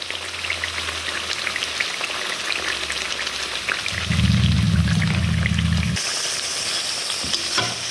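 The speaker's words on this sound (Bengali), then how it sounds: "এবার অল্প করেই সস দেবো।" Sauce poured into a sizzling pan of soybean and potato curry, a steady frying crackle throughout that swells with a thicker gushing layer for a couple of seconds before settling back to sizzling.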